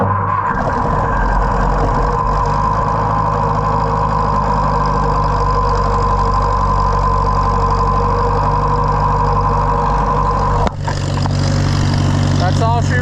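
A WD Allis Chalmers tractor engine churns loudly and steadily under the starter, a continuous mechanical drone that cuts off abruptly near the end before a brief different rattle.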